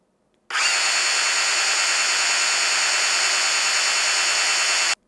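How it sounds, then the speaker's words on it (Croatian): Ryobi RSDS18X SDS-Plus rotary hammer drill spinning without hammer action, a sudden start into a loud, steady high whine held evenly for over four seconds, then cutting off abruptly, close up with no talk. "Da izmerimo i maksimalni broj obrtaja u bušenju bez upotrebe čekića."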